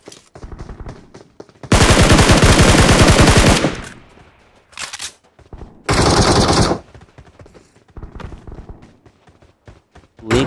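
Automatic gunfire in the BGMI mobile battle royale game on the Livik map, two long loud bursts of rapid shots with shorter bursts and scattered single shots between them, close and dominant, no talking.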